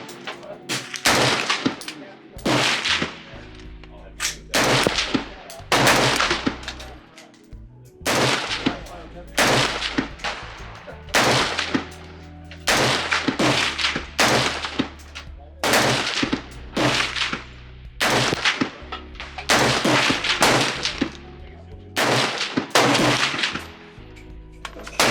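Daniel Defense M4A1 RIII rifle firing outdoors in a series of loud, sharp shots, some single and some in quick bursts, each followed by a brief echo and separated by short pauses.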